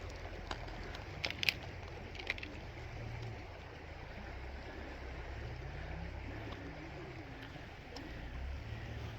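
A river runs over porous gravel on the Lech, a soft steady wash of flowing water with a few faint knocks and clicks.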